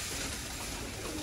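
A golden pigeon coos close by against a dense, steady background hiss, the soft call running through the whole short stretch without any voices.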